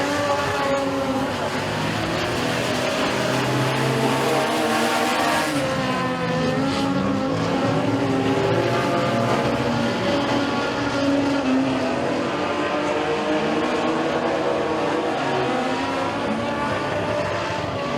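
Race cars in a heat race for the 21 Energy Challengers at Eriez Speedway, a loud, continuous roar of several engines rising and falling as the pack circles, with faint talk underneath.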